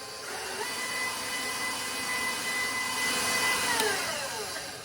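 An electric mixer beats chocolate chip cookie dough with a steady, close motor whir that keeps going for the whole stretch, with a slight shift in pitch near the end.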